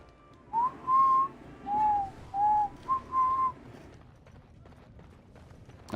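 Whistling in the video game Dragon Age: Origins: a short tune of several clear, sustained notes, fairly loud and with no talk over it.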